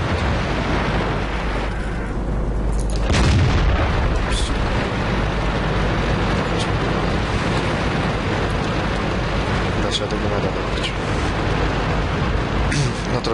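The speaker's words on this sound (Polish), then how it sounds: "Artyleria." Artillery fire in the World of Tanks video game during a battle with an FV4202 tank: a dense, loud, continuous rumble of battle noise with one heavier boom early on and scattered sharper bursts.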